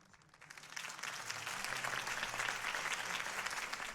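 Crowd applause in the Telltale Batman game, swelling in after a quiet start into dense, sustained clapping from many hands, loud and continuous.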